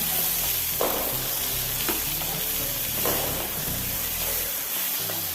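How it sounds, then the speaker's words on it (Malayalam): A capsicum dish with lemon juice is stirred in a hot pan, giving steady close sizzling with a few sharp scraping strokes of the spoon, while faint background music plays and no one speaks. "ഇനി നല്ലപോലെ ഒന്ന് ഇളക്കി കൊടുക്കാം"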